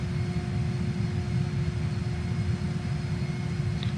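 A JAS-39 Gripen jet taxis in Microsoft Flight Simulator, with a constant droning engine rumble and a steady whine, loud and unchanging throughout.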